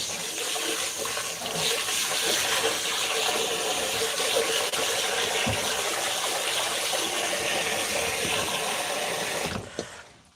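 Water gushes steadily from a kitchen tap while food is rinsed in a sink, a strong continuous rush lasting about ten seconds before cutting off abruptly at the end.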